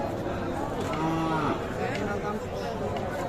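A cow lets out a long, loud moo amid the busy crowd noise of a cattle market where Sahiwal bulls and calves are sold, with people chattering in the background.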